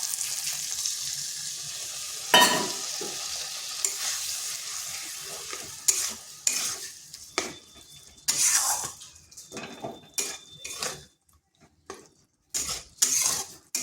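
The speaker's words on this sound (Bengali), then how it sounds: "মশলাটা একটু ভেজে নিচ্ছি।" Masala with poppy seed paste fries in a kadai while a spoon scrapes and stirs, giving a soft steady sizzle broken by sharp metallic clinks and scraping strokes at an uneven rhythm, close and fairly loud, with no talking.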